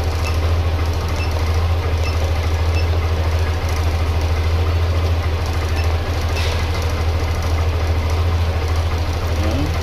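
A Yamaha Nmax v2 scooter engine idles after throttle body cleaning, with a rough idle fault: a steady, loud low hum with faint periodic ticks, alone and without talk.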